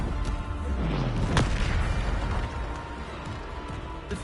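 Bombarda spell explosion in Hogwarts Legacy: a deep, booming blast near the middle over continuous low rumbling game noise, with a faint descending tone before it.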